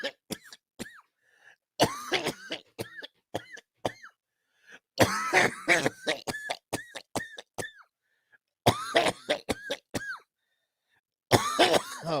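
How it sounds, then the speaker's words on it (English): A man coughs in repeated loud, close bursts, several harsh coughs in quick clusters separated by short pauses, with throat clearing mixed in and no speech. "Oh man, that made me cough even more."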